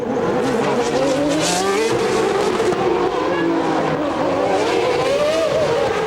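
Nigel Mansell and Ayrton Senna's Formula 1 cars racing through the Monaco streets in 1992, loud high-revving engines rising and falling continuously with a brief tire screech.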